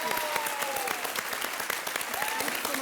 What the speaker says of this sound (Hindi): और एक बार फिर जोरदार तालियां रणवीर सिंह,